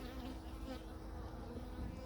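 Honeybees drone in a low, steady hum throughout a spring hive inspection, a continuous buzzing swarm heard fairly softly with no voices.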